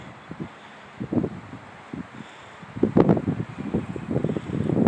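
Gusty outdoor wind buffets the microphone in uneven bursts, starting moderate and building into a louder, sustained rumble toward the end.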